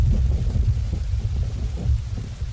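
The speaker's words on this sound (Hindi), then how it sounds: "रघु ने देखा कि बारिश की बूंदें अब और भी तेज हो गई हैं। तूफान की रफ्तार भी काफी बढ़ गई है।" Heavy rain pours steadily while low thunder rumbles through a storm, a dense, even wash of downpour with deep rolling swells and no voices.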